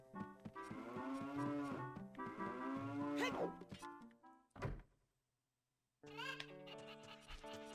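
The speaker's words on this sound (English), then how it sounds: "Hi, cows." Cows in The Legend of Zelda: Ocarina of Time give long, loud moos with rising pitch, followed by a dull thunk, a short silence, then more lowing from the game's cattle barn.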